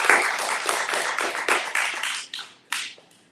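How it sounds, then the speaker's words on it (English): An audience claps for Allie at an elite team pinning ceremony, a close burst of uneven applause that thins into a few last scattered claps and fades out. "Clap it up for Allie"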